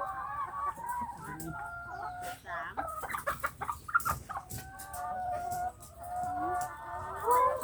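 Chickens cluck and squawk continuously at close range on a farm, with overlapping calls and a crow-like cry, while people talk nearby.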